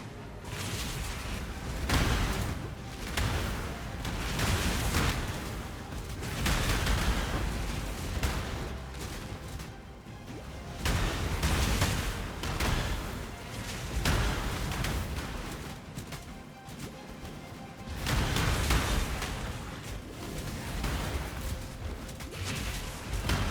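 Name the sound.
Profane Bloom and Ascendancy explosions in video game Path of Exile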